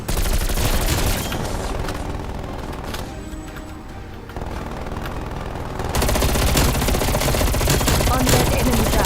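Sustained, dense automatic gunfire from a zombie shooter game roars loud and close, thinning briefly in the middle before surging back at full intensity.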